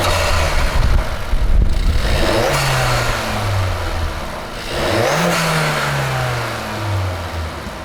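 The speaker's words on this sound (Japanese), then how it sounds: "吸気音が大きくなって、車内からでもアクセル踏めばこういう感じで聞こえるようになります" A Suzuki Swift Sport engine with an exposed mushroom-type air filter revs up twice, each time rising into a loud intake roar and whoosh heard from inside the cabin, then settling back down.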